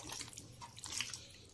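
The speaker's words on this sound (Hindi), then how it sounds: "ये थोड़ा सा पानी लेना है इस तरह, तो इसको दोबारा से मिक्स करना है।" A little water poured into chicken pakora batter, a brief splashing trickle with faint drips, heard close and alone.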